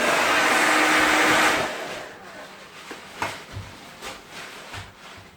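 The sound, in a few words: internal cooling fan of a power station under 1800-watt load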